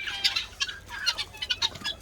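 Hens raid feed from a wheelbarrow, giving a rapid run of close, bright clucks and short squawks that overlap in quick bursts, with no voices.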